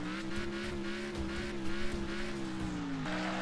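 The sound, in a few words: motorbike engine in a video game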